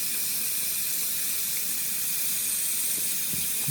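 Water runs steadily from a tap in a continuous hissing stream while a probe is rinsed, with a faint clink near the end.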